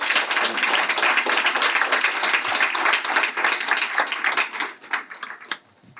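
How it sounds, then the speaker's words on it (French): An audience at an invisible disabilities event in Ajaccio breaks into steady applause, dense and sustained at first, then thinning into a few scattered claps before fading out. "Si vous pouvez les applaudir si vous voulez."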